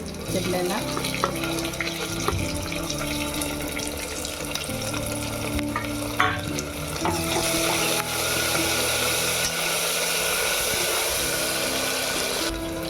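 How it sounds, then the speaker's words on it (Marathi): Onion frying in a pan for a Maharashtrian khaar vangi (spiced brinjal) curry, a steady close sizzle with stirring and scraping clatter running throughout, no voices. "कांदा परतवला का कांदा आपला आता सोनेरी होत आहे"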